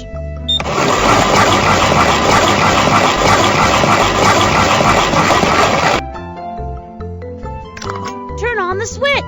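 A toy concrete mixer truck's engine switches on with a loud, steady mechanical whirring drone that runs for about five seconds and then cuts off abruptly, followed by playful cartoon sound effects over a music bed.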